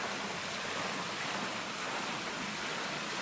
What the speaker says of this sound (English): Why the fuck is that waterfall so loud, man?